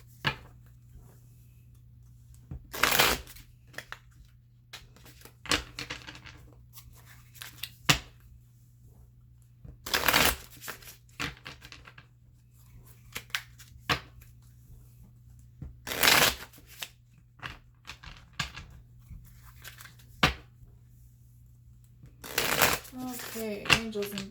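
Osho Zen Tarot cards being shuffled in quick riffling bursts about every six to seven seconds, each crisp and close, with quiet gaps between them and a steady low hum underneath.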